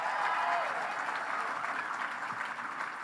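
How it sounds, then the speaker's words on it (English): An audience at a political speech claps together in sustained, fairly loud applause, dense and even from start to finish without pause. "So give Carol a big round of applause."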